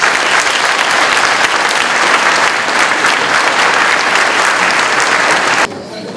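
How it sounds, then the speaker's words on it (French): Steady, dense applause from a large audience at a mayor's New Year's greetings evening, filling the room loudly for about five and a half seconds before suddenly dropping to a quieter, thinner patter. "J'aimerais que vous les applaudissiez s'il vous plaît."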